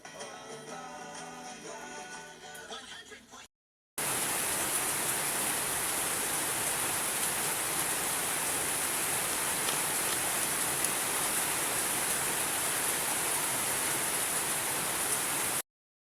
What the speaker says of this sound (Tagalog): Antay ko lang tumila ang ulan mga farmers.